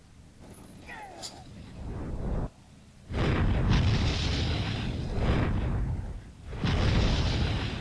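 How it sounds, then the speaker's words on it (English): Artillery barrage in the WWII tank game Panzer Command: Ostfront, a sustained roar of heavy booming impacts that rumble on for several seconds, with one brief lull and continued pounding blasts. "Alright, the artillery should start coming down now."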